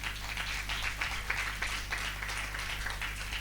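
Church congregation clapping together during a worship service, a steady run of many hands applauding at a moderate distance, fairly soft and continuous over a low hum.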